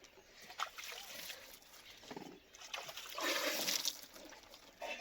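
Warm water is poured and splashed while feet are washed, arriving in several uneven bursts of pouring and splatter up close, with quieter gaps between.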